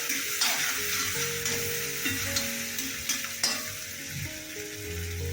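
Crushed garlic fries in an iron pan, a close steady sizzle broken by several stirring scrapes and knocks of a spoon against the pan, with no speech.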